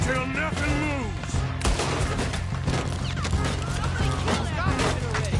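Gunfire in a Red Dead Redemption 2 shootout, rapid overlapping shots and bursts crashing continuously under excited shouted talk.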